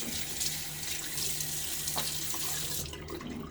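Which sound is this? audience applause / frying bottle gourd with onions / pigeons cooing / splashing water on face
splashing water on face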